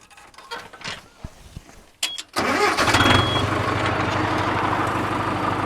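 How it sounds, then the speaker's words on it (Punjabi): A tractor used with a cultivator cranks and catches, then settles into a loud, steady diesel idle close by, after a few seconds of faint clatter. "ਟਰੈਕਟਰ ਸਟਾਰਟ ਕਰਕੇ ਮੈਂ ਤੁਹਾਨੂੰ ਦਿਖਾਉਣਾ ਬਾਈ"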